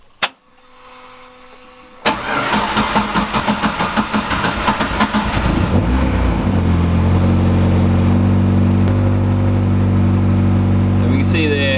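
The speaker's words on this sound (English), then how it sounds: "let's see if we can start the car." A turbocharged time attack car build, fitted with a high-capacity fuel system, cranks with a rapid rhythmic starter chatter after a sharp click, catches, then settles into a loud steady idle close by.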